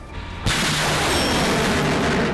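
Explosions from a destroyed S-300 air defense system near Belbek airfield in Crimea: a sudden loud blast followed by sustained roaring, crackling detonations with no pause, close and dense throughout.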